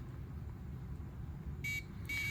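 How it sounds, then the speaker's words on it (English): Two short, sharp electronic buzzes from a push-to-talk radio timer sound near the end over a constant low hum of background noise. "Once it gets down to 5 seconds, it will start blinking and the buzzer will sound."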